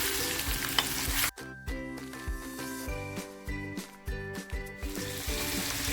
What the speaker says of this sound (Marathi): कांदा घेतलाय ना तो टाकते लसूण टाकते मी हलक्या हाताने आपल्याला हलवायचं